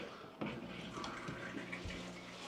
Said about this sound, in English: So you can see how the water just runs up and trickles down in that one that doesn't have the pod.